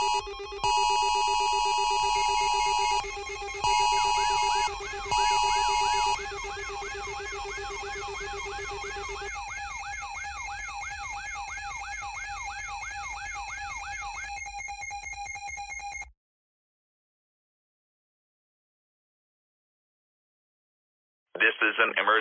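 Emergency Alert System alert tones: loud, steady dual-tone attention signal with sweeping warble, broken by short bursts, running about sixteen seconds before falling silent, then a loud burst returns at the end.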